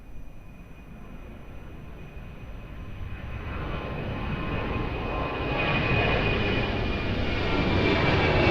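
An airliner landing at Lisbon Airport on runway 02 in a 15-knot wind comes in as a steady jet-engine roar that grows louder and nearer over several seconds, with a faint high whine above it.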